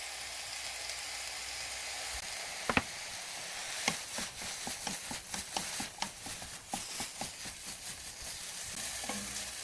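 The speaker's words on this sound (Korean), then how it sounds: "이렇게 해서 타지 않게 달달달달 볶아주세요" Namul stir-fries in a pan with fish sauce and sesame oil, a steady close sizzle broken by repeated scraping stirs and light clatter, with no voices.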